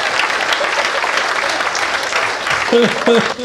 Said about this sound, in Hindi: एक बार हाथ खड़े करके तालियां बजाओ जरा